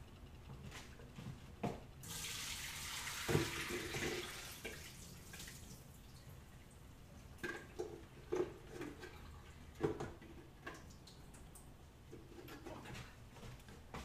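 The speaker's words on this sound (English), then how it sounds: "So I'm gonna drain the water off this" Water from a pot of cooked apples pours off into a sink in a home kitchen, a steady rushing splash for a few seconds, then quieter clinks and drips.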